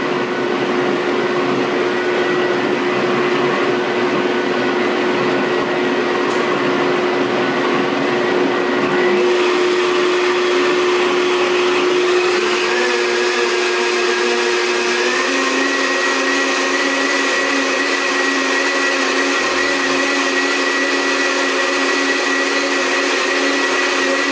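A blender mixes a kale smoothie with a loud, continuous whirring drone, its pitch shifting partway through as the contents churn, running alone for the whole stretch.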